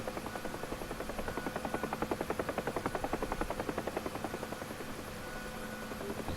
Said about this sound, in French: c'est ça qui est sympathique dans l'hélicoptère